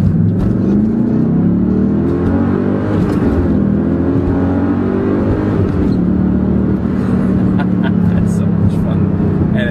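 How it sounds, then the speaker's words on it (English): A Pontiac GTO accelerating, its engine note rising and sweeping upward in a loud, sustained rush, with a person talking over it. "the acceleration is fantastic"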